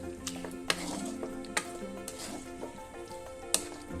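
Mixed fruit chutney with red grapes and pomegranate seeds being stirred in a pan, with scattered soft clinks and scrapes of the spoon against the metal over a low sizzle, close by and without talk.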